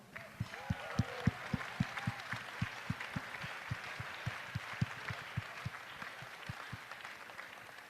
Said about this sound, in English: let's give another big round of applause to everybody standing at your table